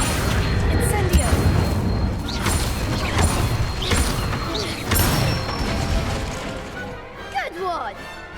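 An Incendio fire spell cast in Hogwarts Legacy during wand practice, heard as a series of heavy whooshing bursts and crashing impacts repeating over several seconds, with a voice talking underneath.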